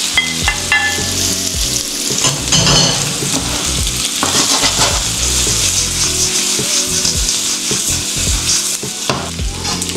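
Pork belly for sisig fries in a hot pan, giving a loud, steady crackling sizzle close up with occasional stirring and scraping of the pan and no talk.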